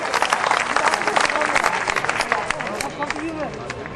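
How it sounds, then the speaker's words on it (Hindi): An audience claps for poets at a Hindi kavi sammelan organized by a newspaper, a dense wash of applause mixed with crowd babble, steady and loud before tapering slightly. "एक बार जोरदार तालियां इन सभी कवियों के लिए।"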